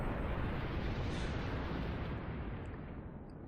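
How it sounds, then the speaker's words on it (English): Final Fantasy X explosions as a dense, loud, roaring blast that fills the whole clip, rumbling steadily before slowly tapering off. "And explosions."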